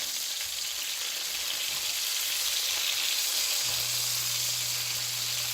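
Beef liver frying in a pan, a steady close hiss and crackle of sizzling fat running throughout, with a low hum coming in near the end.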